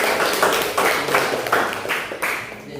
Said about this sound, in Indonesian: terima kasih tepuk tangan untuk semua